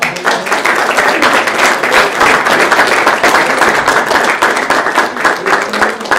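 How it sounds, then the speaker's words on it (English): A career-centre audience gives a round of applause for a guest speaker, loud, close and continuous clapping from many people with individual claps audible, lasting several seconds without talk. "Give Kevin another round of applause."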